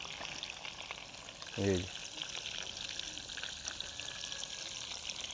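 Partridge and dove frying in oil over low heat, a faint continuous sizzle with a brief word of speech partway through.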